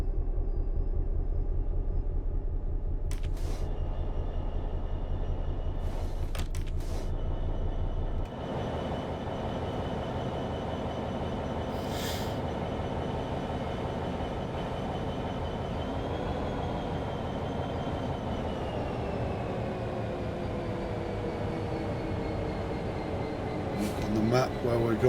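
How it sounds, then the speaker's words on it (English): A diesel locomotive in Train Sim World 5 rumbles steadily as it moves, with a heavier low idle at first, then a continuous engine drone and faint rail sounds, while someone talks over it throughout. "Drive the train back into the siding now."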